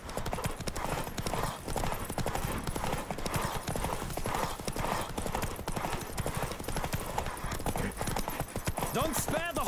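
A horse galloping in the video game The Witcher 3, with rapid, rhythmic hoofbeats pounding continuously and loudly, mixed with game sound and occasional voice.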